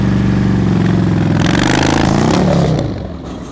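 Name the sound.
motorcycle engine during slow speed riding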